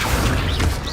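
A spell cast in the Hogwarts Legacy video game gives a brief, close burst of mechanical creaking and clattering with a dull thump underneath.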